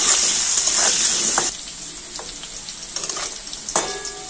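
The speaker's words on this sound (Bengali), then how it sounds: "নেড়ে ছেড়ে আলুগুলোকে ভেজে নেব।" Potatoes with a pinch of turmeric fry in hot oil, a dense steady sizzle that softens midway, broken by scraping stirs of a spatula in the pan, close and unaccompanied by talk.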